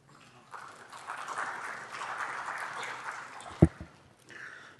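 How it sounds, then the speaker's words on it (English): An audience at a technical conference on x86 TLB-splitting applauds: a steady wash of clapping builds, holds for about three seconds and fades, moderately loud in a hall, with a sharp thump near the end. "Give him a round of applause."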